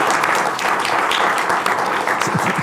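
Studio audience on a French political talk show breaks into steady, dense applause that holds at full strength throughout, with no talking over it.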